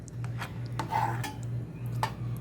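Melting cheese for mac and cheese stirred in a pot over low heat, with soft scraping strokes and light metallic clinks of the utensil, close up over a steady low hum.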